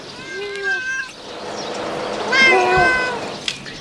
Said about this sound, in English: It's a cat, it's a cat.